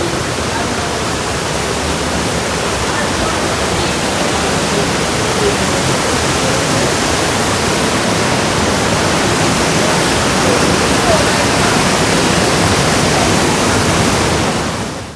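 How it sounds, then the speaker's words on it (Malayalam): Bushkill Falls, a Pennsylvania waterfall, roars with a steady, dense broadband rush of falling water that stays loud and unchanging throughout, with no voices. "ഇടയ്ക്കിടയ്ക്ക് ഇങ്ങനെ വെള്ളത്തിൻ്റെ സൗണ്ട് നിങ്ങളെ കേൾപ്പിക്കണത്"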